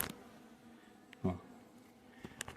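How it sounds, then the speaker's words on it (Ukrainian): Wild forest honey bees buzz faintly around a hive, a low, thin hum broken by a few soft clicks and knocks. "бджоли зовсім спокійні, ось літають"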